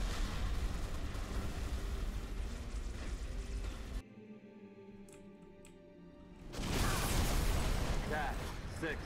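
A grenade explosion in the video game Halo: Reach, a loud broad burst that gives way to a quieter stretch with clicking mechanical sounds before another heavy roar of noise, with game sounds throughout.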